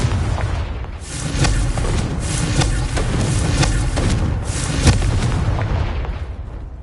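Confringo spell explosions in Hogwarts Legacy boom loudly in quick succession, a dense rolling barrage of bursts and cracks that stays loud and close throughout, with no talking.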